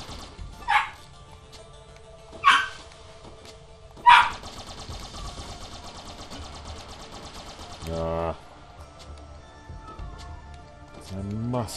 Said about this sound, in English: Sorry if you can hear my dog bark in the background.